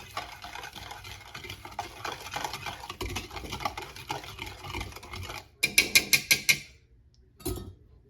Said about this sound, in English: And stir in the sugar. Actually, let me whisk it in.